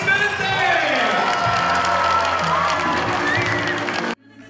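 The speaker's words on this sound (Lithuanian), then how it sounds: "Visi ir jūs aplodismentai!" A festival crowd claps and cheers in one loud, continuous wave of applause and shouts. It holds for about four seconds and then cuts off sharply.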